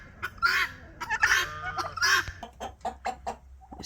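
Barred Rock chickens in a coop give a quick run of close, bright clucks and squawky calls, several birds overlapping in an uneven, chattering rhythm.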